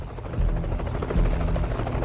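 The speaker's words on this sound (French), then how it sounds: "Le premier hélicoptère décolle en emportant le corps de Ben Laden." A helicopter taking off during the raid that killed Bin Laden, its rotor a loud, close, continuous thumping drone with rhythmic blade pulses and no voices over it.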